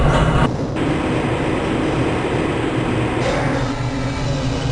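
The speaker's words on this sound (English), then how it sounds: "This train is inbound from the Area 8 topside dormitories to the Central Transit Hub in Area 9." Black Mesa transit tram in Half-Life: Blue Shift rolling steadily along its rail, a continuous loud rumble with low mechanical hum and no clear clatter beats throughout.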